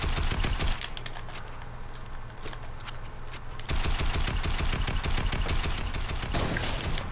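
Rapid automatic gunfire in a multiplayer shooter video game crackles in dense, sustained bursts with a brief change in the middle, loud and close, with no voices over it.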